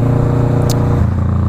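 Motorcycle on the road with a steady, loud engine rumble and wind noise close by, holding an even drone throughout with no talking.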